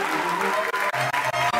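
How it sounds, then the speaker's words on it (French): A live audience at a national science-talk competition final claps steadily for a third-prize winner. The clapping is loud and dense with brief dips, and faint voices sit underneath. "On l'applaudit."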